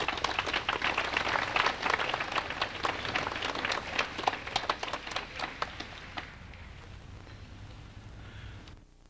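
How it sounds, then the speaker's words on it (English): An audience at a 1992 NCSSM graduation ceremony applauds with dense, sustained clapping that gradually thins and fades out over several seconds, leaving quiet room tone. "would you please give a round of applause?"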